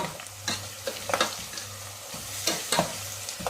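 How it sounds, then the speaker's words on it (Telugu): Spice paste for tomato chutney fries in oil, crackling with a soft sizzle while a utensil stirs and scrapes the pan in short bursts; close and moderately loud, with no voices. "దీన్ని ఇప్పుడు ఆయిల్లో బాగా వేయించుకున్నాము."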